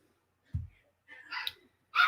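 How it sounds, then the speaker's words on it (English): Little puppies from a dog breeder giving a few short, sharp yips, faint and spaced apart with quiet gaps between them. "I got the little puppies. Yip, yip, yipping."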